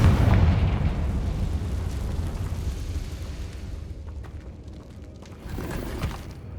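Confringo fire spell blast in Hogwarts Legacy: a heavy booming explosion at the start, rumbling and decaying over several seconds with scattered crackles, then a smaller second burst near the end, all without talk.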